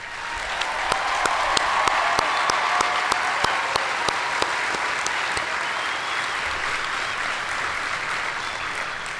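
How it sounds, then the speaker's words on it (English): Sustained applause from a large audience at an Air Force Basic Military Training coin and retreat ceremony, a dense steady wash of clapping lasting the whole stretch, with a few sharper nearby claps standing out. "Let's give them one more round of applause,"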